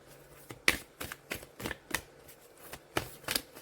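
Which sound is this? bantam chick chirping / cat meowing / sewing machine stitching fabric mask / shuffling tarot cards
shuffling tarot cards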